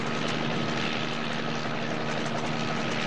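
A helicopter drones steadily and loudly throughout with a constant rotor and engine rush and a faint steady hum underneath, without pause.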